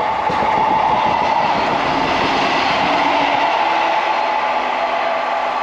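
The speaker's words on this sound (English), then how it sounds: "If it's not passing trains, it's usually station announcements." A train rolls through a Scottish railway station on the line into Edinburgh, a loud, steady rumble with rhythmic wheel clatter that holds from start to finish with no voices.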